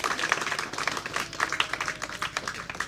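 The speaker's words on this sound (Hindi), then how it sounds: "ताली बजाइए, तालियों से स्वागत कीजिए आप लोग" Scattered clapping from an audience at a prize distribution for a school pre-test, welcoming a guest, with uneven sharp claps at moderate volume throughout.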